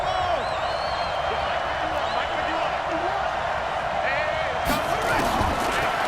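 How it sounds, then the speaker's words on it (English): A stadium crowd roars steadily in Madden NFL 20 ahead of a big third down, a dense continuous wash of cheering that swells near the end, with a commentator speaking over it. "the crowd getting into it as we come up on a big 3rd down"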